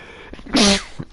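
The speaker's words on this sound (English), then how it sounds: "Sorry, I had to sneeze." A single loud human sneeze bursts out close by, a short sharp snort with a tonal cry in the middle, set against quiet room background with faint sniffs before and after.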